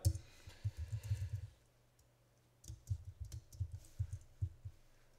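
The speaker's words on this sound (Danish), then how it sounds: "så vi taster hurtigt alle vores detaljer" Personal details are typed on a computer keyboard in quick clusters of soft clicks and taps. There is a brief pause, then another run of keystrokes, close and fairly quiet.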